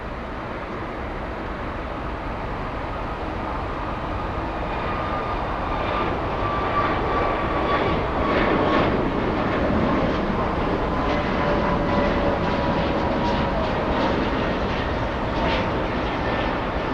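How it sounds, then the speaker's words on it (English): An American Airlines Boeing 777 arriving from Heathrow at LAX sends out a continuous, loud engine roar that swells gently toward the middle, with a faint whining tone running through it and no talking. "The American 777 is flying in from Heathrow."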